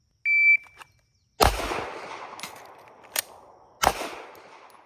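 During pistol reload drills, a shot timer's start beep is followed by three sharp gunshots spaced over a few seconds, each ringing out and decaying, with no talking.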